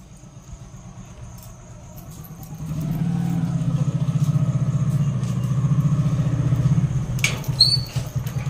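Quiet at first, then a car engine grows louder and settles into a close, steady rumble as the vehicle pulls up; a brief rattle follows near the end.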